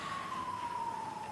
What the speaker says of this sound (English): but the sirens are a little distracting.